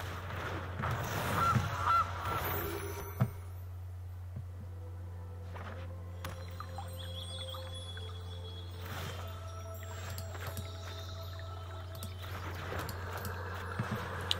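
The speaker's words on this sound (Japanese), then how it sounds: "さあ金のガチョウ。" A cartoonish goose honk for the Golden Goose card in MTG Arena rings out early, with a few short honking calls over a steady low game-music hum and scattered interface chimes.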